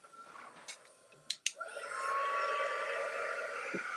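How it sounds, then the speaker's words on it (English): A heat gun or dryer whirs on after a couple of sharp clicks, blowing a steady airy roar with a thin high whine, close and continuous to the end. "I'm going to go ahead and hit this with my dryer"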